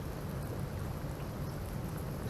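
Steady rain falls outside a house on a day of all-day rain, a soft, continuous hiss at moderate distance with no voices.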